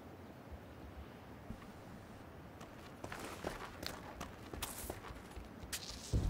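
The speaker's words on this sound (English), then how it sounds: "Hey, he's still about, I can hear his footsteps." Footsteps of a player in PUBG on Xbox One, a run of faint patters that grow louder and sharper toward the end, with scattered crisp thuds and low background rumble.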